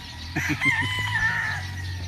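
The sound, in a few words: rooster crowing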